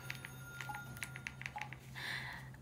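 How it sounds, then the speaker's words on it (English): A house phone rings with a series of short electronic chirps and beeps, faint and fairly close, over a low steady hum. "this house phone is gonna drive me crazy"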